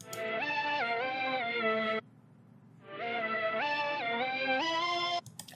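Dissonant ambient synth layer from the Horns of Fear noise oscillator in Serum, two sustained harmonic swells with stepping pitches, separated by a brief gap, played alone.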